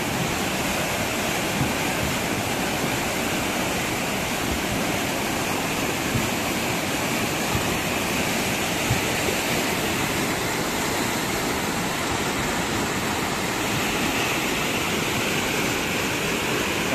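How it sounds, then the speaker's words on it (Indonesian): Strong, fast river current rushing at a bridge: a loud, steady broadband roar of water that stays constant throughout, close and unbroken, with no voices. "maksud saya airnya sangat deras di sini."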